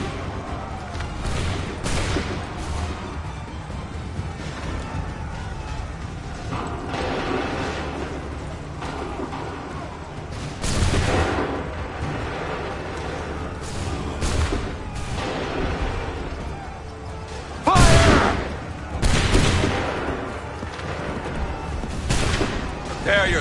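Musket volleys and scattered gunfire crackle in the video game Assassin's Creed 3, with loud bursts of shots and booms rising over a busy battle din while shouted commands are heard.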